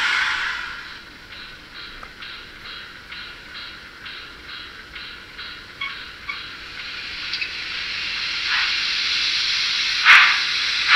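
A Gützold class 65 steam locomotive model in TT scale gives off a sound-module steam hiss with rhythmic chuffs, steady and bright, with louder hissing bursts near the end.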